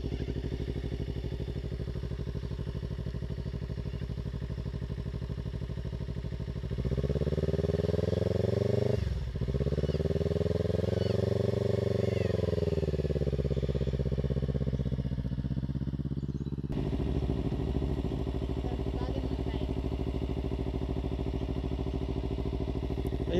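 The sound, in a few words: motorbike engine revving as learner rides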